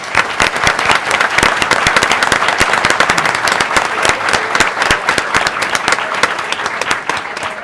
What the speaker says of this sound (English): please join me in a round of applause in honor of an outstanding alum